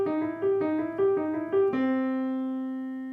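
A blues lick on piano: a quick repeated figure alternating between two notes, then a final note held and left to ring and fade. It is played alone, clear and moderately loud.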